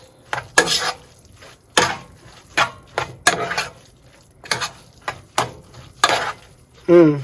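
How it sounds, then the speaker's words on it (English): Spatula scraping and clinking through egg fried rice in a pan in a camper kitchen, with repeated short stirring strokes in an uneven rhythm, close and moderately loud, ending with a brief burst of sizzle. "Stir that in."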